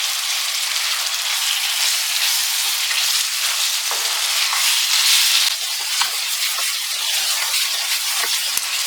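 Chicken frying in a pan with chopped tomatoes for pepper masala sizzles loudly and steadily, with a dense hiss and occasional scrapes from stirring, close up and without talk.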